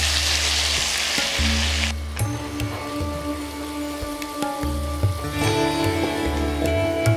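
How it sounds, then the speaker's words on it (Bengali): Ground spice paste hits hot oil already flavoured with crushed garam masala for a Bengali prawn dish, a loud crackling sizzle that dips and swells as the paste settles, with a steady low hum under it. "এবার এতে ঢেলে দিন আগে থেকে করে রাখা বাটা মশলা"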